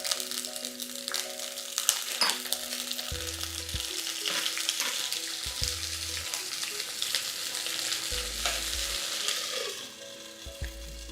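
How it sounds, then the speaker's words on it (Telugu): Eggplant pieces frying in hot oil in a pan for a vankaya pulusu, a steady close sizzle with crackling bursts and occasional stirring noises, heard alone without talk. "నూనె కొంచెం వేడెక్కాక ఈ వంకాయల్ని ఇందులో వేసేద్దాం."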